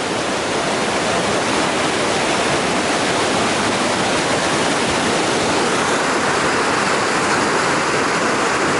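Mountain river water rushes loudly and steadily over rocks on the Crvena Reka near Pelister, a dense, continuous roar close by with no voices.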